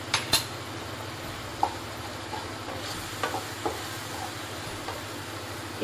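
Cheesy pasta is stirred in a pan after chili flakes go in, giving soft scraping and clinking of a utensil against the pan over a low sizzle, with a few sharp taps standing out.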